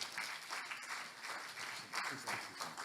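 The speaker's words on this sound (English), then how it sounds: "Another round of applause, please." An audience at a transport conference breaks into sustained applause, a dense, even clapping that swells and ebbs in waves for the whole stretch without any speech.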